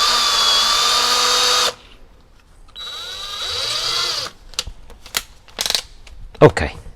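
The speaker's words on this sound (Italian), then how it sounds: "E quindi montiamo una punta da 6 anche su questo avvitatore." A Parkside PABH 20Li B2 cordless hammer drill fitted with a 6 mm bit whirs loudly at high speed in two bursts, stopping abruptly each time, followed by scattered clicks and handling knocks.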